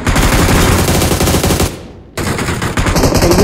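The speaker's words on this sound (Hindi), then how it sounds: "यहाँ सामने पे दूर पे जो बिल्डिंग होती है वहाँ पे गोली चल रही होती है" Rapid automatic gunfire crackles from a distant building in BGMI (PUBG Mobile), loud sustained bursts broken by a brief pause before the firing resumes, with no speech.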